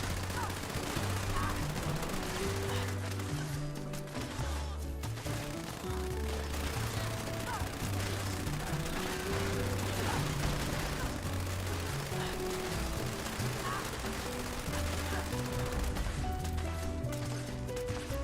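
Sustained light machine gun fire in Fallout 76 during an infestation fight on PC, dense rapid bursts running continuously under a busy game soundscape and voices.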